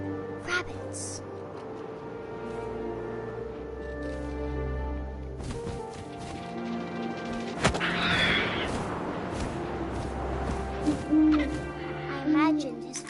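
An owl hoots in What Remains of Edith Finch on PS5, heard over a steady wind-like background with other layered game sounds and a sharp crash partway through.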